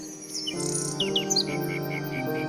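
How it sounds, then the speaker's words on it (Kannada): A jewelled mechanical cuckoo from a Kannada fairy tale sings bright, quick chirping trills over a sustained musical backing, clear and close with no talk. "ಆಮೇಲೆ ಬರೀ ಆ ವಜ್ರದ ಕೋಗಿಲೆ ಹಾಡಕ್ಕಾಯ್ತು ಅದರ ಧ್ವನಿ ನಿಜವಾದ ಕೋಗಿಲೆ ಹಾಗೆ ಇತ್ತು"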